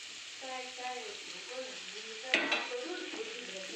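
A spoon stirs smashed tomato with chilli powder and spices in a pan, giving a soft sizzle with a sharp scrape and clatter midway, while a voice talks over it.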